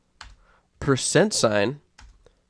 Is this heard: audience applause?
no